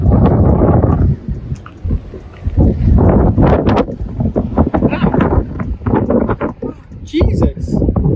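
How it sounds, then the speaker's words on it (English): Strong gusty wind buffets the microphone near the Hoover Dam, with loud rumbling blasts that rise and fall while people talk nearby. "It's bloody windy, isn't it?"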